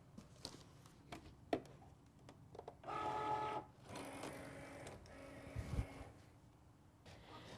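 A Cricut cutting machine slices vinyl, giving a mechanical whirring hum with bursts of motor movement and small clicks, moderately loud and close, with no talking.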